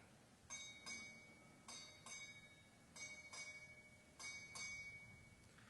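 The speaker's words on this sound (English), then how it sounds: "Time orderly, strike 8 bells." A ship's bell strikes eight bells at a United States Southern Command change-of-command ceremony, four evenly spaced pairs of bright, ringing strokes heard faintly with nothing else over them.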